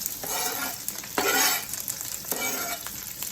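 Cabbage and red onions hit a hot pan and sauté in crackling sizzles, with scraping stirs rising in three short bursts, close and fairly quiet, with no voices.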